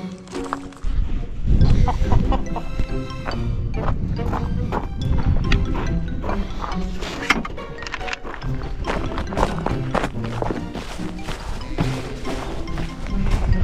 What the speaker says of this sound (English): We gotta feed the chicken.